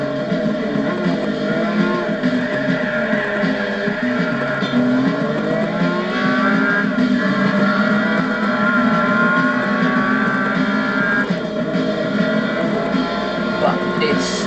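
Ferrari 599 sports car, a heavy grand tourer of nearly two tons, driving at speed with a steady engine drone and shifting tones, while someone talks over it throughout.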